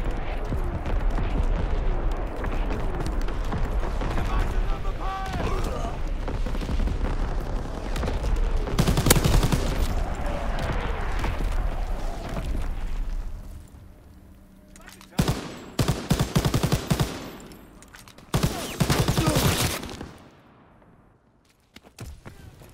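An artillery strike and gunfire in Call of Duty: WWII: dense rolling rumbles and crackling bursts of shots, heavy booming blasts mid-way, then sharp separate volleys that thin out into quiet.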